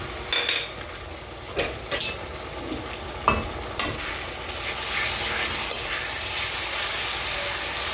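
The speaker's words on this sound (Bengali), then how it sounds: "এবার একটুখানি নাড়বো।" Onion frying with ginger-garlic paste in a pan for a light chicken curry, stirred with a utensil: a steady close sizzle with a few sharp scrapes and clinks early on, then a denser, louder hiss.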